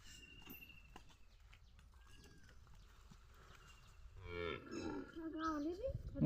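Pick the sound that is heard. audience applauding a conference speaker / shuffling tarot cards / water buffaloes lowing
water buffaloes lowing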